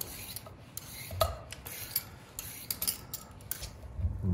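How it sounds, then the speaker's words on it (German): A cucumber is peeled by hand for Andalusian gazpacho: a series of short, close, raspy scraping strokes in an irregular rhythm, with no talk over them. "So, die Gurke tun wir schälen."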